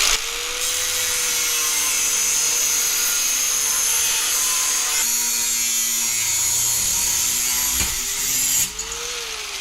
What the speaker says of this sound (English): I can actually have both hands on the angle grinder